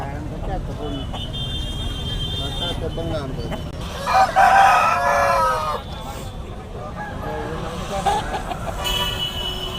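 Native country chickens and roosters crow and cluck at the weekly Friday poultry market in Nallapadu, with a louder crow rising mid-clip over steady crowd chatter and background market noise.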